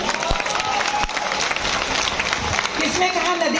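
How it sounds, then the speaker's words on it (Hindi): Audience applause at a Hindi kavi sammelan poetry gathering at a college festival, a dense, steady wash of many hands clapping throughout, with speech-like sounds mixed in. "आप अपने लिए तालियां बजा दीजिए"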